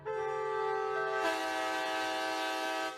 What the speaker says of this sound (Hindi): तभी उस सन्नाटे को तोड़ता है एक ट्रेन का हॉर्न।